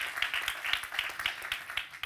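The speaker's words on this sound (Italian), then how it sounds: "Un applauso al primo candidato alla seconda sezione del premio Inge Feltrinelli" An audience at the Inge Feltrinelli prize ceremony claps for the first candidate, a small group's rhythmic, fairly soft applause with regular beats and no talk.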